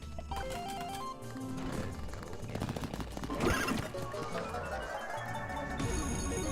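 A horse whinnies in the Resident Evil Code Veronica casino, mixed in with loud game music and jackpot chimes and effects, with one brighter burst near the middle.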